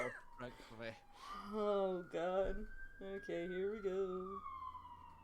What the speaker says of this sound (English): Excuse the siren that's apparently going by my house.